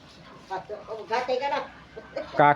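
Ducks call with nasal, honking quacks near a farm hut in Cavite, with a louder burst at the end, while people talk nearby.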